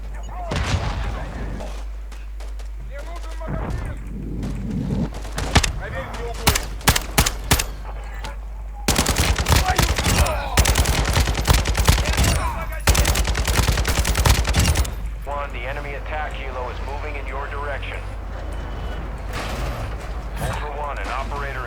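Call of Duty: Warzone 2.0 gunfight with repeated bursts of close automatic fire and single shots, dense rattling volleys in the middle stretch, while a player talks excitedly throughout.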